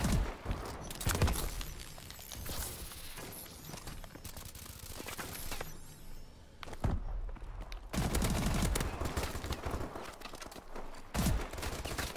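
Rapid automatic gunfire and explosive bursts from Call of Duty: Advanced Warfare team deathmatch, loud and continuous with short pauses, dense overlapping shots throughout.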